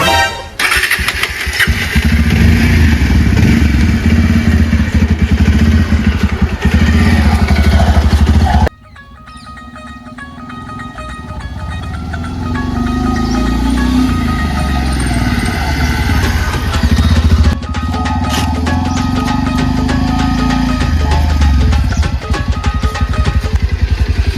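A motorcycle engine runs loudly up close, cutting off abruptly and then restarting to idle with a rough, steady rumble that swells slightly over the following seconds.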